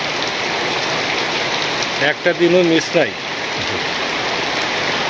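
Steady rain pours down in a Bangladeshi village, a dense, even hiss that runs unbroken from start to finish, with a brief stretch of talk rising over it midway.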